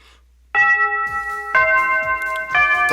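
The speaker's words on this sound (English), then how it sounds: "The bell that I longed for is ringing, and all the classes for today are finally over." School bell chime from the PC visual novel game Shuffle!, a bright ringing tone struck three times about a second apart, each strike sustaining with clear overtones, loud and alone with no talking.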